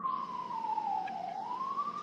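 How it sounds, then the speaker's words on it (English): A police siren wails outside a window, its single steady tone sliding slowly down and back up, continuous and fairly loud for about two seconds with no talking. "That was actual police sirens."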